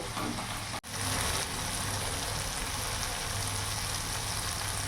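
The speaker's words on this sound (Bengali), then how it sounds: "ভালো করে কষিয়ে নেব মশলাটা যতক্ষণ না মশলা থেকে ভালোভাবে তেল ছেড়ে দিচ্ছে ততক্ষণ কষিয়ে নেব" Spice masala frying in oil in a pan for a rohu fish curry, a steady close sizzle that carries on unbroken apart from one brief dip, with no talking.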